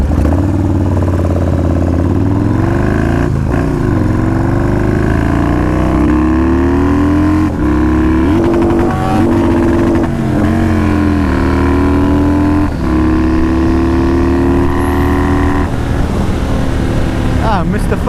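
Yamaha Warrior 1700 and Honda CBR 1000 motorcycles accelerate hard and loud, with rising and falling engine tones and a missed gear shift as the revs climb, while a rider talks over the noise.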